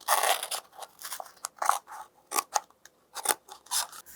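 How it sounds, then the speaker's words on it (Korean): Scissors snip through paper while trimming the base of a cup-stand lens project, a run of close, crisp cuts in uneven bursts with short pauses between them. "가위를 조작할 때 다치지 않도록 조심조심 오려서 조작해 주세요."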